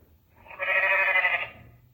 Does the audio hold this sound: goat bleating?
yes